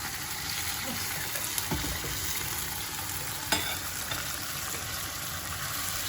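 A borscht fry-up sizzles in a pot on a gas stove, with borscht broth added and left to simmer. The frying hiss stays steady and close, with a few faint stirring knocks.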